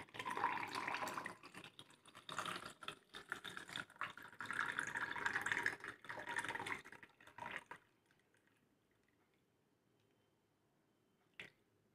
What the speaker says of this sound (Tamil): மில்க் ஷேக் வந்து இதில் சேர்த்திடலாம்.